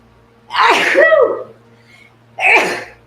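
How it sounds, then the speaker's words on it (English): Two loud, close sneezes, the first drawn out and the second shorter, separated by a brief quiet pause. "I think I'm going to sneeze"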